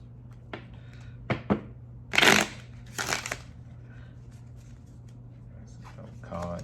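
A White Sage Tarot deck is shuffled in short bursts: a few soft taps, then two louder riffling flurries and scattered card clicks, close and fairly quiet.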